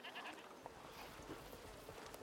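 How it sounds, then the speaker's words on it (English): Goat Lucinda bleats in the video game A Plague Tale Requiem, a short wavering farm-animal call repeated over a soft, steady game ambience, fairly quiet and without talk. "You're a nice goat, Lucinda."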